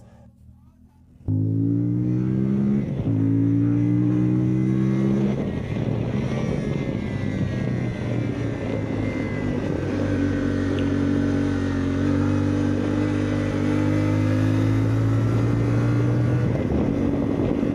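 A CFMOTO Ibex 450 motorcycle ridden at a motorcycle event starts up loud and holds a steady engine drone with rising and falling revs, close and continuous, no talk.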